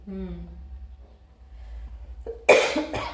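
A voice speaks briefly, then after a pause comes a sharp, loud cough followed by a second, shorter one, close to the listener.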